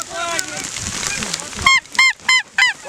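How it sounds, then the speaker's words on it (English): A flock of geese honks in flight during a snowstorm near Lubbock, several loud close calls in a quick burst after a brief stretch where a person talks over wind noise. "Hey, we got geese to the left."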